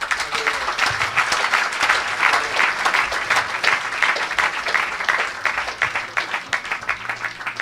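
A church congregation applauding, steady dense clapping from many hands throughout, loud and sustained with a faint crowd murmur underneath.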